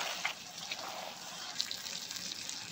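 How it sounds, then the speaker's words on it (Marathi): Warm water being poured into a pressure cooker over soaked basmati rice fried in masala for egg and chicken biryani, a faint, soft steady splashing and trickle with a few small drips, no voices. "आता आपण याच्यामध्ये मी कोमट पाणी करून घेतलं आहे तर ते ओतून घेते"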